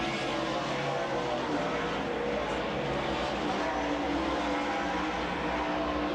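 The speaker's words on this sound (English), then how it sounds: "On the leader, there's Lagasse keeping the truck tight and down to the bottom of the racetrack." Racing trucks in a 1995 NASCAR SuperTruck race at the Sears Point road course roar in a continuous, loud engine drone with broadband track noise, and no gaps in the sound.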